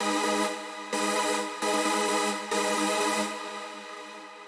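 Heavily detuned, wide synth layer from a bigroom chord, a bright buzzy sustained tone played in several rhythmic stabs with brief gaps, then a held note that slowly fades, loud and alone.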